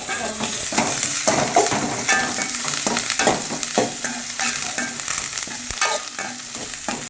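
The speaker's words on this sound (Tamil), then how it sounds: "வெங்காயம் நல்லா டீப்பாக ஃப்ரை ஆகும்" Onions and blood fry in a pan with a constant sizzle, broken by repeated scraping and stirring strokes of a utensil against the pan, close and fairly loud.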